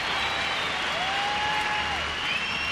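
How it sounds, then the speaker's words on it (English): Baseball fans applauding in the stands at a Detroit at Charlotte game, a steady wash of clapping and crowd noise with a faint whistle-like tone gliding through the middle. "Fans applauding, I think, more for the umpire than for Addison"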